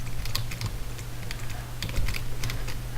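Rapid typing on a computer keyboard during a Minecraft session, with quick irregular clusters of key clicks close to the mic and no talking.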